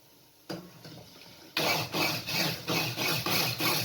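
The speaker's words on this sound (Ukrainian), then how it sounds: "І зіб'ю це все блендером до дрібної консистенції" A hand blender purees stewed raspberries, starting with a few soft bumps and then whirring in a string of loud, close pulses of roughly half a second each, with no talk.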